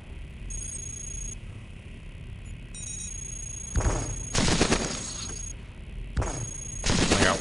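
Plasma rifles firing in the video game Cogmind, loud bursts of rapid shots in two or three volleys over a steady electronic hum, with no talk.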